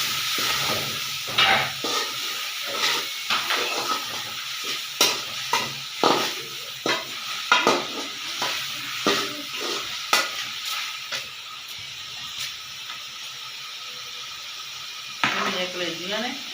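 Pieces of chicken liver frying in a pan, with repeated sharp clatters of stirring or scraping over a steady sizzle, and a voice talking faintly under the cooking noise toward the end.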